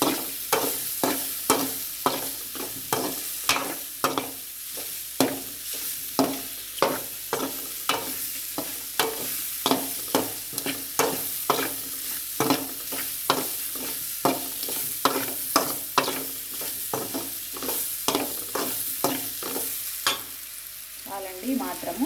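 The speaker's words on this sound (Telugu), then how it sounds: "అడుగు పట్టకుండా తిప్పుకుంటూ ఫ్రై చేసుకోవాలండి" Mushroom curry ingredients fry in a pan while being stirred steadily, a continuous sizzle broken by regular scraping strokes of the spoon roughly every second, close and clear with no talking.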